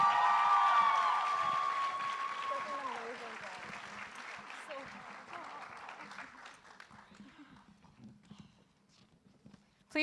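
An audience at a student cultural show applauds for its presidents, dense clapping loudest at the start that thins and fades to scattered claps over about ten seconds.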